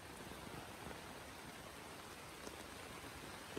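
Heavy rain pours down steadily at a fishing spot, a dense hiss of drops on surfaces with a few louder nearby spatters, fairly faint overall and no voices.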